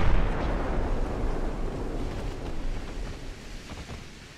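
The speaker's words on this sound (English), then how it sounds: "I'm gonna start firing my secondaries on this guy here" Secondary guns on a warship in Ultimate Admiral: Dreadnoughts fire in a dense, rumbling barrage. Overlapping booms roll together with a heavy low-end wash that fades slightly toward the end, and no voices are heard.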